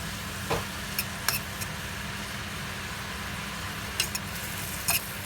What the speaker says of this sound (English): I'm sauteing these mushrooms